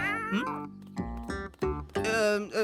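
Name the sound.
cat meowing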